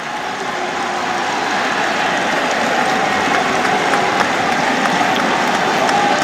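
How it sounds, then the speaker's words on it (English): A cricket crowd at an England v India Test applauds Bumrah near the fine leg boundary, a steady broad wash of clapping from a distance over constant ground noise. "Bumrah getting another huge round of applause"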